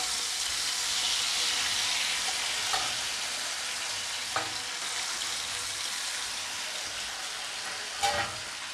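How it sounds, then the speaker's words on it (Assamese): Small puti fish fry in hot oil in a flat pan, giving a continuous close sizzle and hiss with a few soft clinks from stirring. "एतिया माछखिनि फ्राई करिम"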